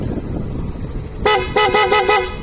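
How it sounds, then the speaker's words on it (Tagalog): Loud aftermarket horn on a Suzuki Access scooter, sounding in a string of short sharp toots close by, following a brief stretch of quieter ambient noise. "Tapos sa busina, meron siyang stock at saka loud."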